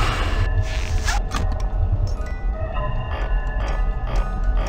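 Five Nights at Freddy's 2 game audio signalling an animatronic nearby: a dense, loud, continuous wash of noisy rumble with scattered bursts and swishes throughout, no talking.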